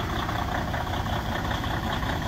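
A Detroit Diesel DD16 truck engine idles in the cold with a steady, dense, unbroken rumble that stays even and fairly loud throughout.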